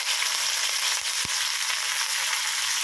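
Curry leaves hit hot tempering oil for a dal, giving a loud, steady broadband sizzle that holds throughout, with a brief sharp pop about a second in.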